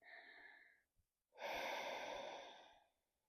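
A yoga practitioner breathing during a pose: a short audible inhale, a brief pause, then a longer, louder, airy exhale, close to the microphone in a quiet room.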